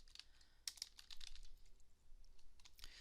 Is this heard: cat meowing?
no